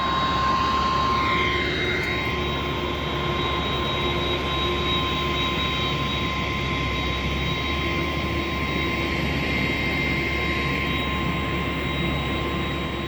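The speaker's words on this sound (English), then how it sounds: "DC-10 heading out." A DC-10 air tanker jet takes off for a fire-fighting run, its engines producing a loud, steady, broadband roar that holds for the whole stretch.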